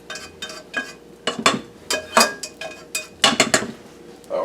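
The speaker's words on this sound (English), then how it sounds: "We are going to add the shiitake mushroom mixture in with this pasta." A utensil clatters and scrapes against a pan as a shiitake mushroom mixture is stirred into linguine pasta, giving a quick irregular series of bright metallic clinks and knocks, close and fairly loud, with no talking.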